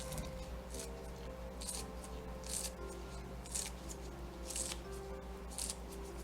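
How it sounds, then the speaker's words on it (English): Five-blade kitchen scissors snip through green onions in a series of crisp, close cuts at a steady rhythm, each a short bright rasp over a low steady background hum. "And you see I brought back my 5 blades, scissors. So I can just cut them up."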